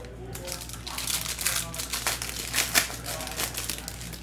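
Close, crisp crinkling and sliding as 2024 Topps Museum Collection baseball cards are handled and a base card is slid off the bottom of the stack, in short rustling bursts under faint background voices.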